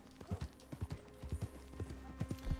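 Horse hooves clip-clop steadily in Red Dead Redemption 2, a walking rhythm of paired thuds near and moderately loud, with no talk over them.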